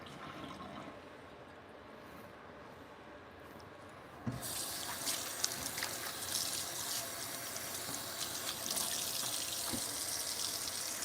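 Tap water pours into a glass at a low, steady hiss, then the flow abruptly turns louder and fuller as the faucet is switched over to cold, rushing on continuously with no talking.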